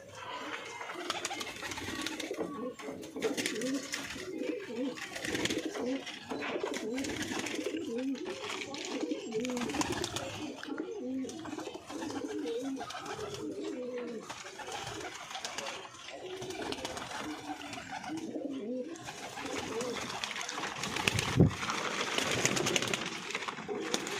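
Pigeons cooing in a loft, low throaty coos repeating throughout at moderate distance, mixed with faint background voices and household noise.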